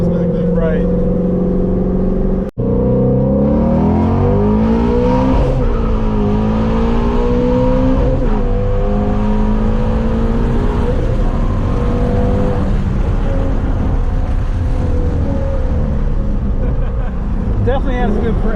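A Chevrolet Camaro's engine drones steadily from inside the cabin, its pitch rising and falling through several revs, with people talking over it throughout.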